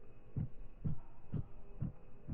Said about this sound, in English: this generator sitting here, making this mechanical noise that sounds like a heartbeat